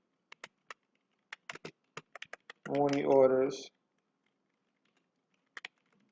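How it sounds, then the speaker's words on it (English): Clicky typing on a computer keyboard: scattered bursts of quick keystrokes, near and fairly faint, pause while a person speaks briefly in the middle, then a couple of final taps. "I didn't even finish typing it in yet."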